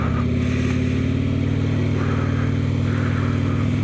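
A Harley-Davidson Road Glide motorcycle rumbles along at a steady, loud pace, its engine drone and wind noise continuous throughout with no talking.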